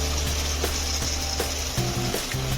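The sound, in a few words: ground masala being stirred and fried into ambadi bhaji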